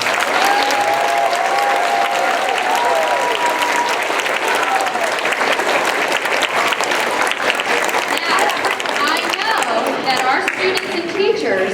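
A school Veterans Day assembly crowd applauds loudly and steadily, a dense sustained wash of clapping with cheering voices and some talk mixed in underneath.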